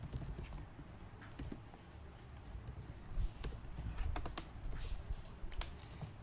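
Steady typing of Lua code on a computer keyboard, a dense run of close, fairly loud key taps with uneven rhythm and some heavier strokes, heard without speech.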